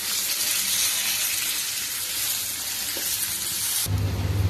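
Curry leaves dropped into hot oil in a pan for beef achar, with green chillies already frying at medium flame, give a steady, bright, close sizzle that cuts off abruptly near the end, followed by a duller rumble.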